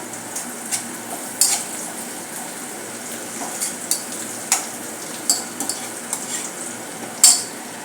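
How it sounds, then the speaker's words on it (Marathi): Sliced onion with a pinch of asafoetida being sautéed and stirred in a pan for dal bhaji, a soft steady sizzle under scattered spoon scrapes and light clinks, close and fairly quiet with no voices. "आपला कांदा गुलाबी होत आलेला आहे आता यामध्ये घालणार आहोत पाव चमचा हिंग चांगले चांगले परतून घेऊया"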